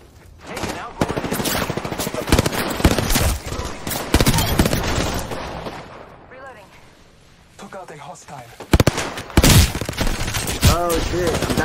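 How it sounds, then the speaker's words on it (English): Gunfire in Apex Legends, rapid automatic bursts and single cracking shots coming close and loud in clusters, with a brief lull midway while a person talks over the action. "The enemies are shooting at me."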